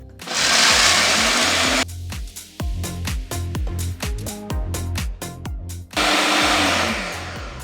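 Ninja blender running on a blend setting, turning nuts and oil into nut butter. It gives a loud steady whirr, then a stretch of rhythmic pulsing chops, then a continuous roar again.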